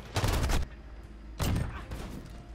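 Two dense bursts of 725 shotgun fire in the video game Modern Warfare, each a loud, fast cluster of blasts separated by a short pause, with the second burst trailing off into echo.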